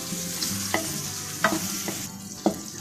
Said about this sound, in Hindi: अब इसको अच्छे तरीके से मिक्स कर लें। इसको 2-3 मिनट तक फ्राई कर लें आप।